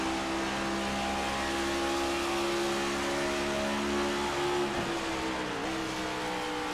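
Race cars in the BRL Bonfire Premier Cup at Twin Ring, a racing video game, roar steadily as engines hold high revs side by side, with a brief dip and pitch shift as one lifts and accelerates again.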